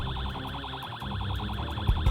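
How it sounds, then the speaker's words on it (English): A wailing siren in the Project Zomboid survival game rises and falls in steady rapid cycles, loud and continuous throughout, with low thumps near the end. "they still love that damn siren too much"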